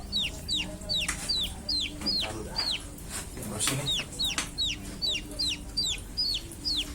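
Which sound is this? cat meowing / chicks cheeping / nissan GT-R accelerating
chicks cheeping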